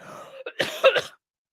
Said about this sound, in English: Sorry, I coughed right into the mic.